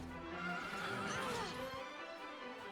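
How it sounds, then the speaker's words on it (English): A horse whinnies in the video game Dragon Quest XI S, a drawn-out neigh that rises and falls over steady game background sound, with no talking. "We stole the horse."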